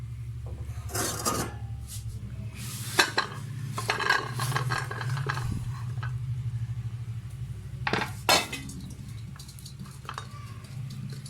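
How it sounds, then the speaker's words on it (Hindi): Fried singharay being served onto a dish: scattered clinks and scrapes of a utensil against the plate, some sharp and close, with quiet gaps between and no speech. "तो चलें फिर अब इसको मैं आपको डिश आउट करके दिखाती हूँ।"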